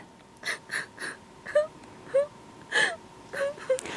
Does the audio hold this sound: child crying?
yes